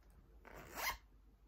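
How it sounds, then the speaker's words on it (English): A zipper pulled quickly along a small pouch: one short, close rasping zip that rises and ends within about half a second, with nothing else around it. "Zipper."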